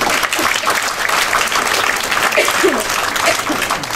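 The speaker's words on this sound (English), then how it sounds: "let us all give a big round of applause to our parents and family members" Steady, dense applause fills a graduation ceremony hall as graduates clap for their parents and family members, a loud continuous wash of many hands with faint voices mixed underneath.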